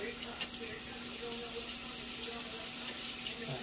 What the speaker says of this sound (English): I'm gonna rinse my face